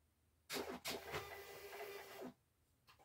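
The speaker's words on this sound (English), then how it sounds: "This printer is Bluetooth also, so you can print from your phone." A Bluetooth shipping label printer feeds and prints a label with a steady mechanical whir lasting about two seconds, starting with a couple of sharp clicks. It is close and fairly loud in a quiet room.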